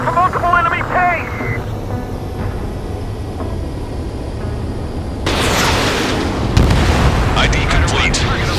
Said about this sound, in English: We're taking fire from multiple enemy tanks!